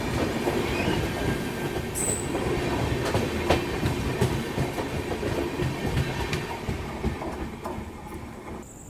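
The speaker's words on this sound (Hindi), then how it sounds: "ये अभी हमको ओवरटेक करके निकल रही है" Another train overtakes alongside a moving Amrit Bharat Express between Banaras and Sealdah, a loud continuous rumble of wheels with clatter, rattles and a brief high squeal, no talking.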